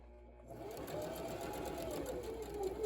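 A sewing machine stitches a goggle strap to its mount, a close, fast, even run of needle strokes starting half a second in.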